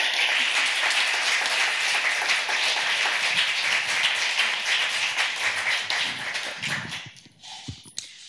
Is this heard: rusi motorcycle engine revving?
no